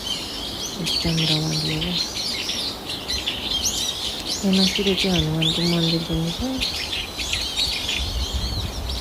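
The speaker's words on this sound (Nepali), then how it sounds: "चराचुरुङ्गीको आवाज" Birds chirp and tweet in a park near Pashupati, with bright, rapid calls overlapping in bursts, while a person talks nearby and lower, clucking bird notes sound in between.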